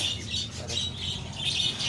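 Birds in a market stall of caged pigeons, including local desi pigeons, call and chirp steadily in a busy, continuous chorus with no clear pauses.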